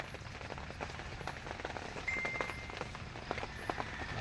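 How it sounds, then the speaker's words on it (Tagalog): Heavy rain falls steadily, a dense hiss of drops pattering on surfaces with scattered sharper taps, moderately loud and continuous throughout. "Lakas ng ulan."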